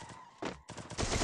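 A quick burst of video game gunfire, several rapid shots close together, loud and sharp with no talking over it.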